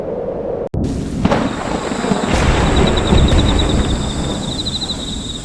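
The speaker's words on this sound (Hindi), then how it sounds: "आसमान में काले बादल गरज रहे" Thunder rolling from dark storm clouds over a dense wash of heavy rain, a sustained loud rumble after a brief break near the start, with a faint high tonal whine running across it.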